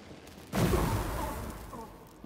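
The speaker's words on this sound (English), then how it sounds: "Is he shooting at me?" Gunfire in S.T.A.L.K.E.R. 2 erupts as one sudden loud blast that rings out into a long, rumbling decay over about two seconds, with nothing else around it.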